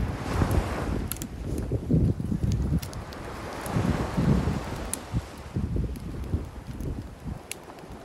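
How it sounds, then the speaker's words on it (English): Wind blowing outdoors on a desert island, a rough, gusting rumble buffeting the microphone for the whole stretch, with faint rustling and a few small ticks and no speech. "The wind is blowing"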